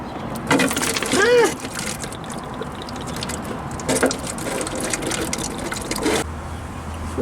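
Engine coolant draining out of a Kei truck radiator during a radiator replacement, a steady liquid trickle and splash into a container with a few louder gurgling bursts, close and continuous before stopping abruptly near the end.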